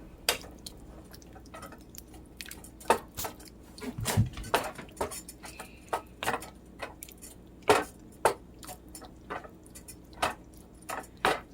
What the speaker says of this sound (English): So, add it back to my pan. Stir everything around.